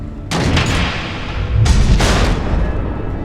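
Missile explosions in Batman: The Enemy Within, two loud, close blasts about a second apart, each a sudden broadband burst that rolls off into a rumbling tail.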